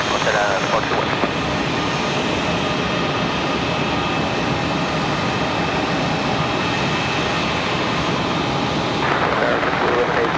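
An Aeromexico Connect jet airliner in updated livery departs Raleigh-Durham International toward Mexico City, its engines a broad, steady roar that holds throughout, loud and sustained, with a faint voice in the background.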